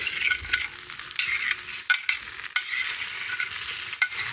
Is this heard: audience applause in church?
no